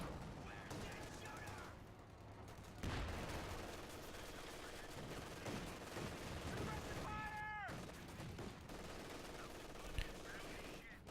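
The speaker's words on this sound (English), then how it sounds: "MG42 doing work in the middle" MG42 machine gun firing in a World War II tank video game match with Panzer IV, Puma and Sherman, rapid bursts of gunfire under a dense battle din with a brief whistling tone midway.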